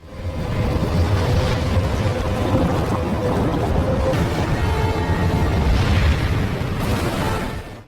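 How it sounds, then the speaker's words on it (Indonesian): Tsunami wave crashing into a station in the disaster film 2012, a loud, sustained roaring rush of water with booming surges that builds and then cuts off. "akhirnya tsunami pun menghampiri stasiun itu"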